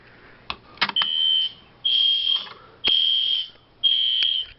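An EST Genesis fire alarm sounds indoors, beginning with a few clicks and then giving four loud, piercing electronic tones, each about a second long with short gaps between them, close by and with no talk.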